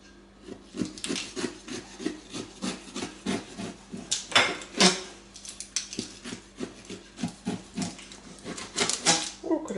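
A knife cuts a slice from a plum and apple pie, making steady rhythmic scraping and rasping strokes against the crust and plate, close and continuous for several seconds.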